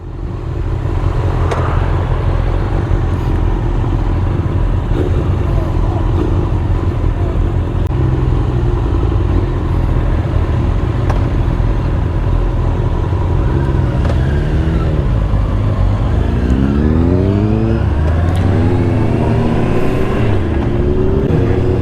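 A group of motorcycles, among them a Yamaha R25 and a Honda 1000RR SP with a Yoshimura exhaust, drones with a steady loud engine rumble, and the throttle is blipped in rising and falling revs near the end.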